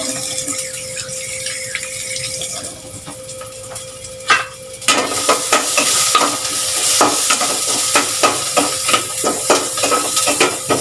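Meat for Filipino chicken tinola drops into a hot pot and sizzles loudly, with a sharp crackle and a run of spattering pops. A lighter bubbling can be heard first.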